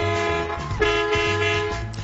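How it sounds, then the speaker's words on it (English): A Mack truck's horn blasts loud and close, holding a steady chord that briefly dips and swells again before cutting off near the end. "getting to sit behind the wheel of a Mack truck and honk the horn."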